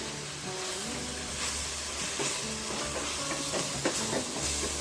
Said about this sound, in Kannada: ಎಲ್ಲ ಮಸಾಲೆ ಚೆನ್ನಾಗಿ ಫ್ರೈ ಮಾಡ್ಕೊಳ್ಳೋಣ